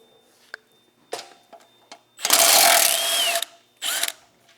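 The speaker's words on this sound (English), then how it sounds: "now we're going to move to our 9/16 socket, and we need to remove these fender mounting bolts here" Ratchet wrench fitted with a 9/16 socket backing out fender mounting bolts, heard as a few short mechanical clicks followed by a long, loud stretch of rapid ratcheting and a final brief burst, close by with no talk.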